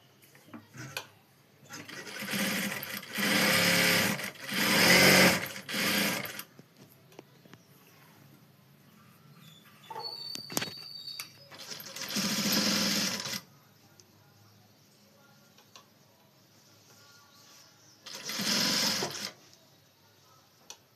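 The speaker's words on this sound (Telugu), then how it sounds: "ఇప్పుడు మళ్ళీ దీన్ని తిప్పి మళ్ళీ ఇంకో కుట్టు వేయాలి" Sewing machine stitching blouse fabric in several loud, close runs of a few seconds, separated by quiet gaps with small clicks and handling sounds.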